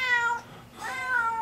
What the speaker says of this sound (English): You let the cat go.